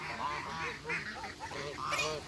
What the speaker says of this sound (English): these are the oldest goslings, who are, at this point, geese, right?